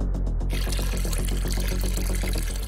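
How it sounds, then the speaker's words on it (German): Water poured into a pot during a kitchen cooking challenge, a steady, continuous rushing pour that fills the whole clip over a faint, rhythmic tonal backdrop. "Ich gieße Wasser in den Topf."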